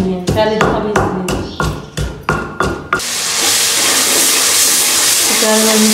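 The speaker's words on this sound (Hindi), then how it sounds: "मसाले को जो है वो तड़का लग रहा है" Spices hitting hot oil for a tadka in a home kitchen: several sharp clinks of metal on a pan come first, then a loud, steady hiss and sizzle fills the rest, close up and with no talking.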